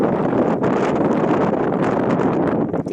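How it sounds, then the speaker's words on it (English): Heavy wind buffets the microphone, a loud continuous rumbling roar with gusty fluctuations and no voices. "It is windy today, I'm sorry. And a horrible noise."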